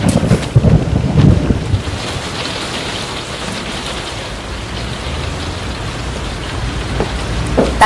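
Steady rain pours down outdoors, a dense continuous hiss mixed with gusty wind buffeting the microphone, loud and unbroken for several seconds with no voices.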